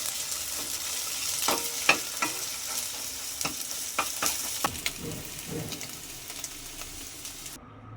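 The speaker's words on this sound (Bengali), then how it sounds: "ডিমটা আস্তে আস্তে করে নাড়িয়ে নিতে হবে।" Beaten egg stirred and scrambled in a hot frying pan for egg pulao, a continuous sizzle broken by repeated sharp scrapes and taps of the spatula, close and fairly loud.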